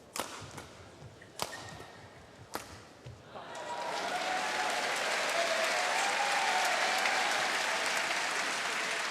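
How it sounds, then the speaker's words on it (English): Spectators at the 2014 French Open badminton match clap to encourage the Japanese doubles pair: a few sharp isolated claps at first, then a sustained wave of crowd applause that holds steady. "the crowd trying to give some encouragement to the Japanese pair"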